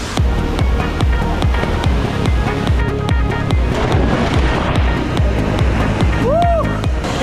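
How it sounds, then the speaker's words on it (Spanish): A strong river current rushes in a cold river in San Luis Potosí, Mexico, a loud and steady broadband roar of water lasting throughout, with a brief whistle-like sound near the end. "La corriente es fuertísima"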